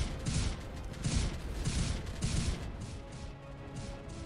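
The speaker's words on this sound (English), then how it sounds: "I'm gonna wait till the gunfire's over." Gunfire in the video game Space Engineers during a survival session: several rapid bursts repeat in a rough rhythm, sharp and fairly close, then fade into weaker rattling with no talk.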